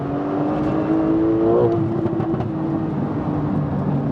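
A 620-horsepower Porsche 991.2 Carrera accelerates hard, its engine note climbing in pitch through a rev sweep, heard as a steady, fairly loud drone from inside the car.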